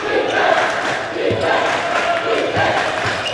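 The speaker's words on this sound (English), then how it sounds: "Crowd getting into it." A student section at a high school boys' basketball game cheers and shouts, a loud, continuous wash of crowd noise with rhythmic swells, close and filling the gym.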